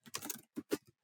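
Brief bursts of keystrokes on a computer keyboard, a quick run of clicks followed by a pause and a few separate taps, close and fairly quiet.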